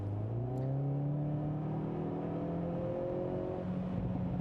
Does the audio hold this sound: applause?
no